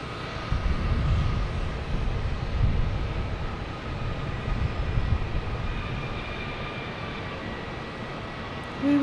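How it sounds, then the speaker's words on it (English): American Airlines Airbus A321 jet at Boston Logan Airport, a broad steady engine roar heard from a distance, holding fairly even before easing slightly toward the end. "We have American Airlines here, an A321 heading to Miami."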